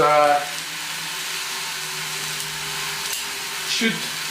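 Five 100-gram hamburger patties cook on a Silex grill set to about 250 degrees, giving a steady close sizzle with a brief hum at the start and a small clatter near the end.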